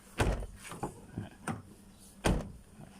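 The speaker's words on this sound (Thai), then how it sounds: "อันนี้จะปิดประตูให้ดูนะครับ" The door of a 2011 Mazda2 fitted with a new rubber seal shuts with several dull, close-up thumps at irregular intervals, the last one the heaviest.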